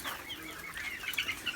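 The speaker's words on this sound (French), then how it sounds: "Il y a de la Pékin perdrix maille argentée comme le coq juste là." Silver partridge Pekin bantam rooster clucking in short, scratchy bursts, moderately close, with a soft rustle in the background and no talk.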